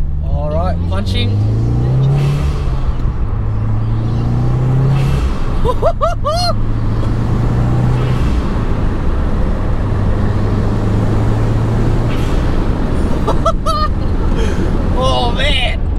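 Turbocharged 2015-or-later Subaru WRX accelerating hard onto a freeway, the engine droning steadily close up with rising revs, interrupted by brief whooshing chirps from its GFB blow-off valve venting between shifts.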